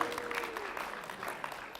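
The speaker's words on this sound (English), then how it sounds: "let's clap it up for that." An audience claps at a talk about a rapid ramen cooker, giving a steady, dense patter of applause throughout with no voices rising above it.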